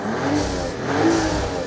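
A BMW M760e inline six-cylinder engine revs under the hood, giving a steady mid-pitched mechanical drone that swells twice in quick succession.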